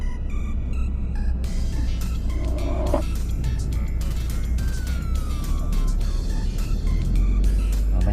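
Steady road traffic on Kanchanaphisek Road in late morning, a continuous low rumble of passing cars with occasional brief tonal whines, loud and constant throughout.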